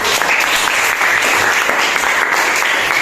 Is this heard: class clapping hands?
yes